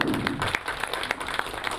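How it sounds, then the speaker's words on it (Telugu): An audience at a movie first-look launch event claps in a brief, modest burst that thins into scattered hand claps over a couple of seconds. "ఒక్కసారి చప్పట్లు కొట్టండి సార్ అందరు."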